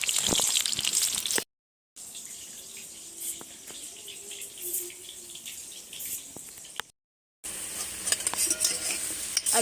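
Potatoes fry in hot oil in a wok, with a steady hiss and scraping spatula strokes across most of the stretch, broken by two short silent gaps.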